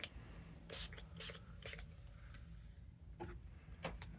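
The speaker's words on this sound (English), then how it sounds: "So I'm going to go ahead and just spray some on." Several short, hissing spritzes from a spray bottle of anti-rust spray onto a knife, close and fairly quiet, spaced irregularly with soft handling noises between them.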